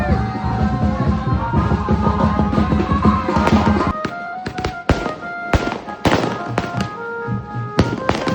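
Firecrackers burst at a Ganesh idol homecoming: a dense crackling barrage gives way to a string of loud, sharp, irregular bangs, close at hand with faint crowd noise in the background.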